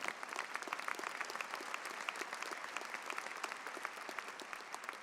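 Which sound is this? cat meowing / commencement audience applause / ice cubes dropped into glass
commencement audience applause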